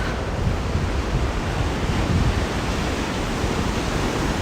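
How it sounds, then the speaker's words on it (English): Sea waves break over coastal rocks on an early-morning shoreline, a steady, loud, continuous roar of surf and wash with some wind rumble, no voices. "And the sea breaking over the top of them."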